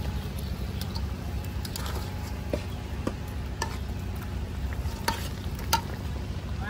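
Fried fish being stirred into a sizzling spice masala in a pan, a steady close frying crackle with scraping stirs and occasional sharp ticks, continuous throughout with no talk.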